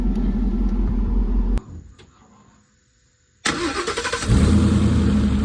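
Coyote-swapped Ford F100 pickup on a test drive: a loud engine rumble cuts out to near silence for about two seconds, then the engine roars back, louder and steady at the close.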